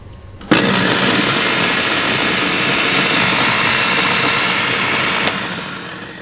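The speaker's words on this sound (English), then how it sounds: "So you turn the blender on," A kitchen blender in an RV runs on solar battery power, switching on abruptly with a loud steady whirring roar that holds for about five seconds before easing off at the end.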